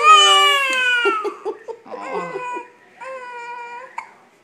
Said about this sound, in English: he's got the hiccups